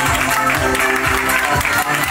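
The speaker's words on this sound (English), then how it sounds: "Big round of applause, people." A pageant audience applauds the runner-up, loud continuous clapping and crowd noise packed close with music-like tones running underneath throughout.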